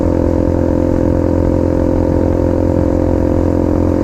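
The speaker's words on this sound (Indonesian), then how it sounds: "apalagi 250 cc tapi mesin 2 tak." A KTM RC 250 two-stroke motorcycle engine runs steadily and loudly nearby, a dense continuous buzzing drone with a constant pitch, no talk over it.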